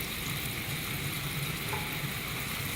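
Garlic goes into teriyaki sauce boiling in a pan over low heat, giving a steady, even sizzle and bubbling hiss that carries on unbroken and fairly quiet.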